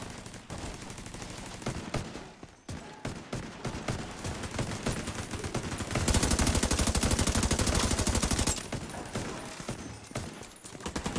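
Automatic gunfire in a video game set in Washington: a dense, steady burst of rapid machine-gun shots that peaks loudest in the middle, with scattered shots and game noise before and after.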